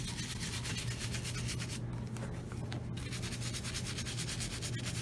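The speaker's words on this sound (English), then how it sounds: "Just want to get a nice lather. And just scrub vigorously." A brush scrubs vigorously with saddle soap lather over vintage Allen Edmonds leather brogues, giving a continuous, close, rhythmic rubbing scrape with no talking.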